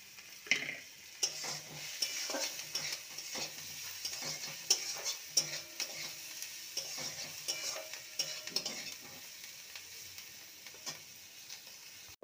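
Salt, turmeric and chopped green chillies fry in a pan for a radish-leaf dish, a quiet sizzle under frequent scraping and tapping of a spatula stirring through the spices, with no voices.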